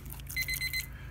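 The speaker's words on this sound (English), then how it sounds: "you can hear the alarms going off on this thing" Temperature controller alarm on a BBQ Dragon grill stone beeping four quick high-pitched beeps in a regular rhythm, fairly faint over low background hum.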